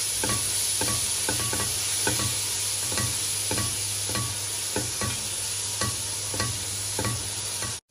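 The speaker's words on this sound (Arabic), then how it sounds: "هنشوح البصله كده لحد ما تاخد لما تدبل معايا بس" Finely chopped large onion sautés in a pan under a constant bright sizzle, while a spoon stirs it in regular scraping strokes, close and clear with no talking.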